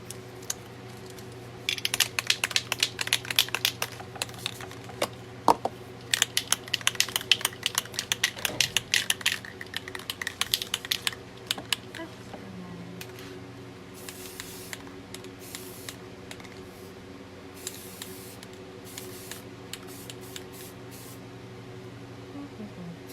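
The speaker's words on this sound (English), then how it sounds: "And then I'm going to spray paint one end and then the other." Spray paint hisses in repeated bursts as a pencil tumbler is coated black, short close blasts with brief pauses between, plus faint handling noises and a steady low background hum.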